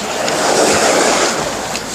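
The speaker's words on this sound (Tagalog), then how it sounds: "Ay, nag-ulan na naman." Steady broadband hiss of rain pouring down outdoors near a house, a dense continuous wash with no voices, holding level for the whole stretch.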